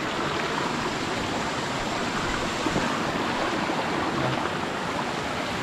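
Water gushes from a garden hose in the Philippine countryside, a steady, loud hiss and splash that stays constant throughout, with no voices.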